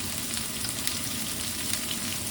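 Onions stir-fried in oil in a wok give off a steady, close hissing sizzle that holds level throughout, with faint scraping underneath and no voices.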